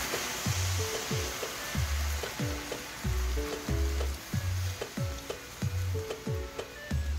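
Pigs feet sizzle and fry in a pan as Dr Pepper is poured in and stirred, a steady crackle with repeated soft knocks of the spoon against the pan.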